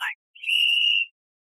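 A small whistle gives one short, thin, shrill blast that holds for about half a second.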